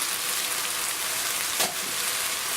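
Drained, rinsed tinned sweet corn goes into a pan of frying mushroom vegetable fried rice, giving a steady close hiss of sizzling with one brief louder splash of sound partway through and no talk.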